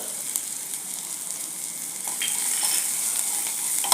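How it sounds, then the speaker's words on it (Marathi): Chili powder and turmeric stirred into a frying brinjal and tomato mixture for vangyache bharit, a constant close sizzle that grows slightly louder, with a few spoon scrapes against the pan. "चटणी आणि हळद घालून मिक्स करून घ्यायचं आहे"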